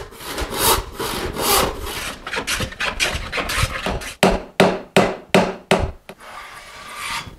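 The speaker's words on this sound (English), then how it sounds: "I can hear the plane cut as it enters the board." A hand plane shaves across a wooden board in a run of rasping strokes. The early passes blur together, then five or six crisp, separate cuts follow, each starting sharply and trailing off, close and fairly loud with no talking.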